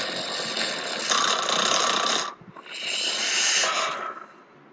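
A person snores while asleep in two long, raspy, breathy snores, loud and close, separated by a short pause.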